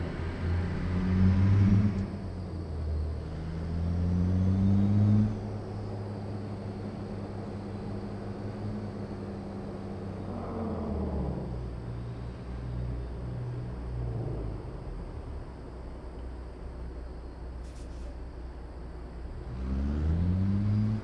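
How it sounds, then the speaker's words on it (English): A truck with a 650 Cat diesel engine in American Truck Simulator revs repeatedly, with several rising and falling engine pulls and deep rumbling between them, steady and fairly loud. "Hear the sounds of this wonderful little cat engine here."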